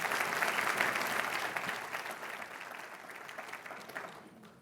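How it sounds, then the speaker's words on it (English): Audience applause at an opening plenary of a small business finance forum, a thick, even wash of clapping heard at moderate distance that slowly thins out over a few seconds. "Let's give a round of applause."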